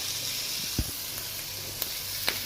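Chicken pieces, carrots and peppers sautéing in a pan for a Moroccan home meal, giving a steady soft sizzle and hiss with a few faint clinks of stirring, close and alone.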